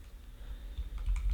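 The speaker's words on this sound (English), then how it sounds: "I am typing my first line of code in Python" Quick, light keystrokes on a computer keyboard while writing a first line of Python code, a short close burst of soft taps over low room hum.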